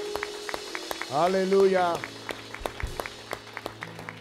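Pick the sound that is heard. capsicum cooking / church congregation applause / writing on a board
church congregation applause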